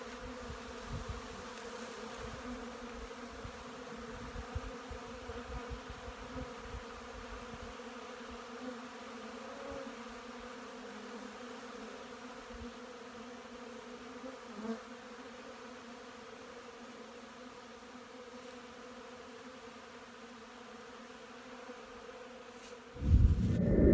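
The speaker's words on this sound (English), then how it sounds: "the grass is just covered with bees here" Steady, droning buzz of many bees hovering close over open ground, continuous throughout with slight swells, ending in a brief loud rustle.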